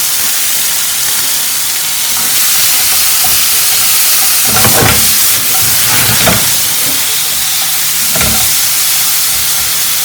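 Beef stir-fries in a pan over open flame, giving a loud, continuous hiss and roar with a few brief scraping and tossing bursts near the middle, close and steady throughout without talk.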